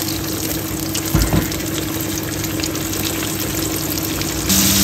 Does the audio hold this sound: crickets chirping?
no